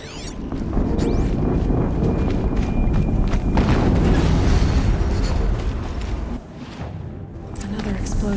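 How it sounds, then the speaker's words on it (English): A deep explosion rumbles through Horizon Zero Dawn gameplay on PC, a loud sustained boom and debris roar that swells, dips briefly near the end, then builds again. "Another explosion."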